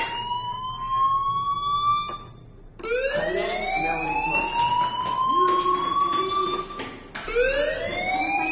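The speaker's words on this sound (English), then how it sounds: "do you hear that fire alarm?" A fire alarm wails in a rising, siren-like sweep that restarts three times. It is loud and steady, with no voices.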